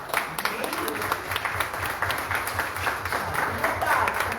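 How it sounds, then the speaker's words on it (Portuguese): Church congregation applauding during a Portuguese-language worship service, a steady dense patter of clapping from many hands throughout, with voices mixed in. "dê uma forte salva de palmas ao nome do nosso Senhor"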